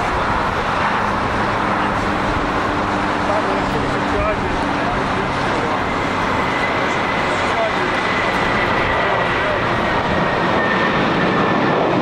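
An airliner taking off at LAX, Los Angeles International Airport, heard as a loud, steady, broadband engine roar filling the whole stretch, with radio chatter and voices over it.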